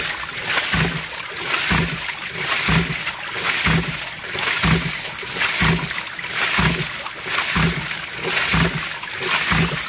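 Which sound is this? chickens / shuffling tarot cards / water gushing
water gushing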